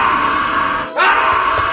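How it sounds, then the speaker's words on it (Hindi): A man's frightened scream for a horror story about a haunted hotel: a short, loud yell that breaks off briefly and then rises again, with no other speech. "राजू अब घबरा के चिल्लाते हुए उस कमरे से भागने लगा"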